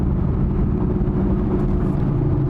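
A 2022 Camaro ZL1 with a straight-piped exhaust and 2-inch TSP headers cruises at highway speed, giving a loud, continuous low droning rumble heard from inside the car.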